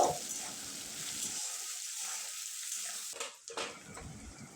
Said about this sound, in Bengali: এবারে দিয়ে দেবো চেরা কাঁচা লঙ্কা পেঁয়াজ কাঁচা লঙ্কাটা ভালোভাবে ভেজে নেব